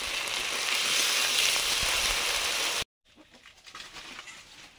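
Ginger and spices sizzle in hot oil, a loud, steady hiss of frying for almost three seconds. It cuts off abruptly and gives way to faint, sparse crackling.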